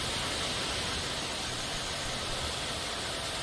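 A steady, even rush of falling water from a waterfall in a video game fills the space, a constant broadband roar with no breaks or voices.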